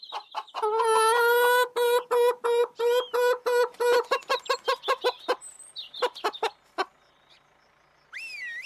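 Animated roosters and hens cluck in a rapid, rhythmic run of sharp clucks that slows and thins out, followed by a brief pause and a rising whistle-like tone at the end.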